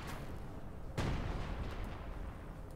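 Tank cannon fire in Company of Heroes 2, one heavy booming shot that rolls out over a dense din of battle, loud and close, no voices.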